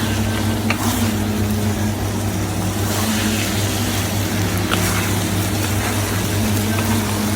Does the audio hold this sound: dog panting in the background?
no